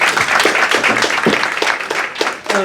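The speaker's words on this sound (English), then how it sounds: "Clap it up for those respondents" Conference audience applauding panel respondents in Las Vegas, a lively burst of many hands clapping with a few louder claps and a voice briefly rising at the end.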